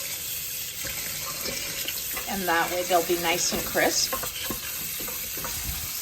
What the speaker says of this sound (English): I'm gonna soak them with some cold water.